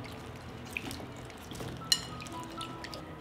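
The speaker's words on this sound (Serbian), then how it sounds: "I ovako malo ga samo progucite kroz vodu." Peeled garlic cloves are swished through a bowl of water, giving a few soft, small splashes and drips in an otherwise quiet kitchen.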